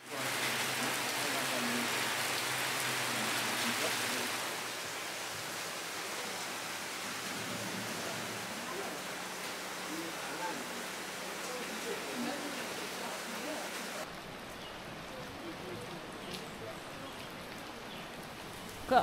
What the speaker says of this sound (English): The rain has not calmed down yet